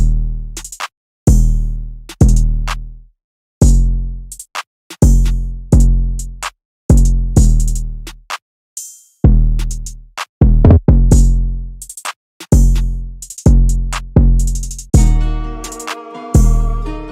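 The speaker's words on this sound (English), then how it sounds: "it's pretty simple 808 pattern, and it sounds like this." A beat built on deep, booming 808 bass hits in a repeating rhythmic pattern with short gaps, plus a quick roll and a brighter synth layer near the end.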